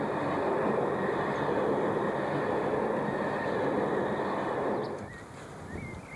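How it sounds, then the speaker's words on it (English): A freight train hauling fertiliser rumbles steadily past on a North Lincolnshire line, a broad continuous roar that drops away after about five seconds, leaving a quieter background with a few faint high squeals. "Passing through the next one, at Bustlingthorpe, was a freight train carrying fertiliser from Immigham's Norsk Hydro"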